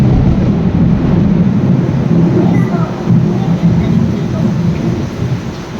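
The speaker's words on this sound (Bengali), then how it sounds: "বৃষ্টি শুরু হয়ে গেছে, আর বৃষ্টি কিন্তু বিশাল পরিমাণে হচ্ছে" Heavy rain pours down during a thunderstorm, a loud, steady, dense roar that fills the whole stretch without letup.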